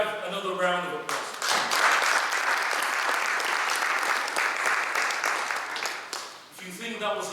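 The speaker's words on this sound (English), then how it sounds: "Can we have another round of applause?" A sustained round of audience applause at a Nigerian Youth Congress inauguration in London, steady dense clapping from a crowd that swells and then fades, with talk before and after it.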